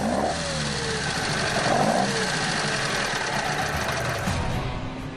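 A 1957 Lotus Elite's 1.2-liter Coventry Climax four-cylinder runs close by with a steady, buzzing drone that rises into mild revving throughout, with no voices.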